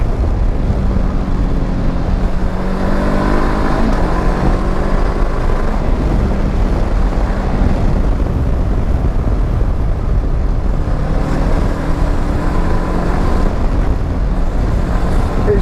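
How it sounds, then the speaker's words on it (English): A 2019 Honda CB500X adventure motorcycle on the move, heard as a steady, loud engine drone under heavy wind rush, with the engine note rising and falling gently through gear changes and no voices. "I'm having more fun than I've got any right to have on a little 500 adventure bike."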